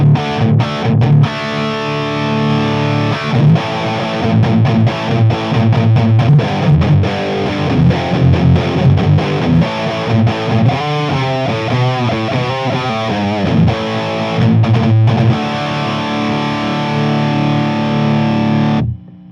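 An electric guitar runs through a Rivera Bonehead amp with the gain at 10, giving a loud, heavily distorted, saturated tone over a continuous run of chugging riffs and sustained chords, close-miked, with no talking.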